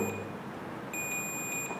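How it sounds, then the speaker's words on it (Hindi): Multimeter continuity tester beeping while probing a copper magnet-coil winding, a faint high electronic tone sounding briefly at the start, then again steadily after a short gap, against quiet room noise. "सुन रहा है ना बीप?"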